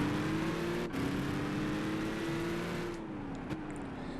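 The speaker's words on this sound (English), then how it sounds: "Listen to that engine." A race car engine in Gran Turismo 5 during the Supercar Nostalgia Cup holds a steady high drone, with a brief dip around a gear change and a slight fall near the end.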